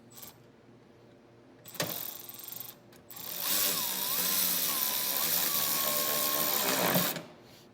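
A ratchet tightening the battery hold-down bolts on a 2013-2019 Ford Escape, heard as a sharp clunk, then a few seconds of steady, close ratcheting and mechanical whirring that stops abruptly.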